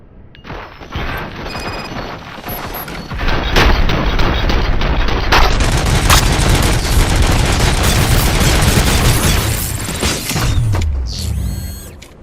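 Sustained automatic gunfire in RoboCop: Rogue City, loud and dense bursts with mechanical clatter and crashes running for most of the stretch before tapering off.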